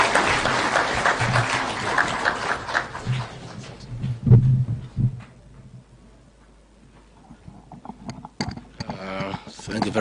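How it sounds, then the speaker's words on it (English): A crowd at a railway city groundbreaking ceremony in Nairobi claps for the Deputy President, brief applause up front that thins into scattered claps, with a voice starting over a PA system. "Can we have a round of applause for the Deputy President?"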